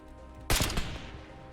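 A PTRD-41 20mm anti power armor rifle firing in Fallout 4, with a single loud, heavy close-range shot and a booming crack that rolls off into a decaying echo over about half a second.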